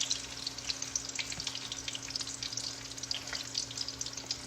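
Banana cue pieces fry in plenty of hot oil, a steady close sizzle with crackles and pops that keeps going with no break and no voices.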